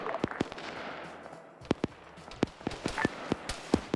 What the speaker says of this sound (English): We are utilizing a minigun vehicle to our advantage at this time.